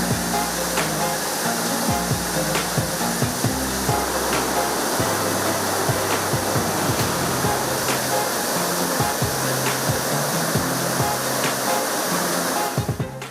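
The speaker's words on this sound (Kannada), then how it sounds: "ಇದು ಕೊಡಗು ಜಿಲ್ಲೆ ಸೋಮವಾರಪೇಟೆ ತಾಲೂಕಿನ ಸೂರ್ಲಬ್ಬಿ ಜಲಪಾತದ ಭವ್ಯ ನೋಟ." Surlabbi waterfall in Somwarpet taluk, Kodagu, Karnataka, roars as a steady, loud, broadband rush of falling water that fills the whole stretch without a break.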